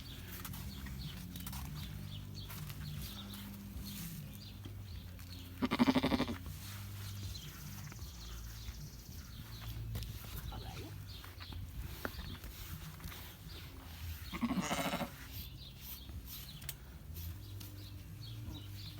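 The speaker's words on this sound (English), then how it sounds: "Hunter's washing his ewe right now, and Brooklyn's ewe is right here." Sheep ewes being prepared for a 4-H show let out two distinct bleats, several seconds apart, over quiet barn noise with faint shuffling.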